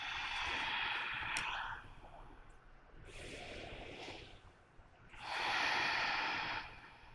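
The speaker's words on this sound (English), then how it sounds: "Big breath in and full breath out." Deep yoga breathing during a power vinyasa practice: three long, loud, close breaths, each a rushing whoosh of air, separated by quieter pauses.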